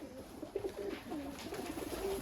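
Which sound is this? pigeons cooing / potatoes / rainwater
pigeons cooing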